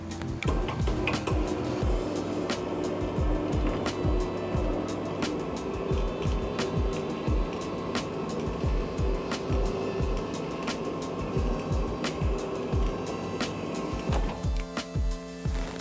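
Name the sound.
SELVE SEZ RC motor lowering a roller screen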